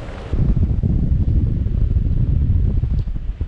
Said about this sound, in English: Looks like we got about a 10 mile an hour headwind.